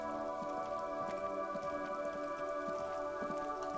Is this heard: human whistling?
no